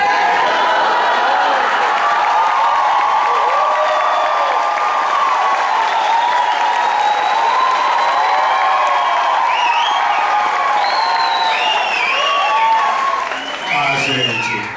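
A live radio concert audience applauds on the MPB stage, with steady, dense clapping and crowd noise sustained throughout, thinning slightly near the end.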